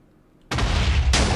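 Bombs dropped from a high-altitude bomber explode in the Minecraft Create Aeronautics game, a sudden loud blast followed by a sustained roaring rumble and a second burst.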